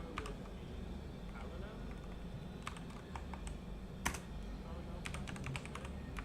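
Keys clatter on a computer keyboard in short irregular bursts, fairly near, over a low steady background hum.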